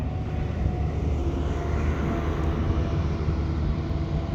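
A red, white and blue freight train hauled by a single Union Pacific locomotive makes a steady, broad, low rumble that holds at an even level throughout, heard from some distance with no voices.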